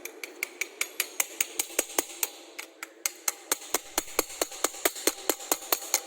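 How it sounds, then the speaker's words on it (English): Flux slag being chipped off weld surfaces in a welding shop, a fast, even series of sharp metallic taps, about four per second, close and crisp with no talk. "you will again remove the flux from their surfaces like this"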